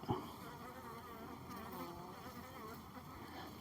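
A honeybee defending its colony buzzes faintly and steadily nearby, a thin continuous drone with a brief louder rustle at the end.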